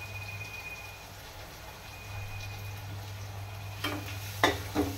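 Chopped vegetables sautéing in a pan for a poriyal, a steady soft sizzle broken near the end by a few sharp clinks of a spoon against the pan.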